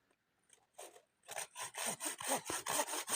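A hand saw cuts through wood outdoors in a forest, starting after a few faint scrapes, then settling into steady, rhythmic back-and-forth strokes, close and fairly loud, with no talking.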